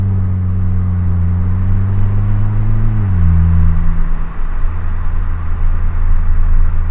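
Steady low engine drone from a VW GTI on the move, with a smooth drop in pitch around the midpoint as if shifting gear, then a continuous road rumble; no voices.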